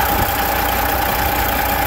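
A close diesel engine idles with a steady, even low rumble and faint knocking rhythm, no voices, after air in the fuel system was fixed.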